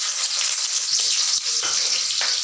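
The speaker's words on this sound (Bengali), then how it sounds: "রসুনগুলো তেলের মধ্যে ভালো করে নাড়াচাড়া করে ভেজে নেওয়া হচ্ছে।" Garlic sizzles in hot oil as it is stirred, a steady bright crackle close up with a few scraping stir strokes, and no voices.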